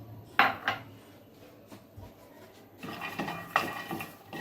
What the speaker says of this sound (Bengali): তো বাদামগুলো আমি একটু ভেজে নিব